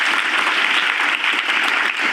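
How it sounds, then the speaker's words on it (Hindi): Loud, dense applause from an audience at a youth group gathering, a steady wash of clapping hands lasting the full two seconds with no pauses. "इनके लिए जोरदार ताली।"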